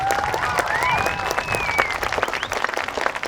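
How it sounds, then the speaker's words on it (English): Crowd applause for a high school woodwind ensemble at an outdoor Parkview High concert on the green, brisk and continuous, with a couple of rising whistles cutting through the clapping. "a round of applause real quick for the Woodwind Ensemble"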